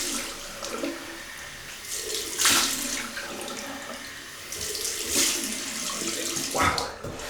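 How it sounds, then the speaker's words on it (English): Cold water runs from a tap into a sink for a shaving rinse, a steady splashing rush with a few louder surges as hands move under the stream. "So have a cold water rinse"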